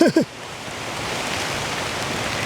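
Rain falling steadily in Bandipur forest, a constant close hiss of drops that begins after a couple of brief voice-like sounds at the start.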